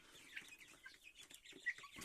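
Faint, scattered chirping and soft clucking from young chicks, quiet and somewhat distant, with no voices.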